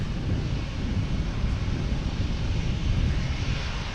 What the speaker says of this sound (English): next to come in on 27 is a JetBlue and A220 coming from Orlando